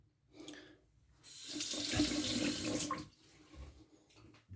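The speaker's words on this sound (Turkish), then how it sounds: "Yüzümüzü hafif bir durulayalım." Water runs from a sink tap as a face is rinsed after a wet shave, a close splashing rush that swells for about two seconds, then fades into small drips and splashes.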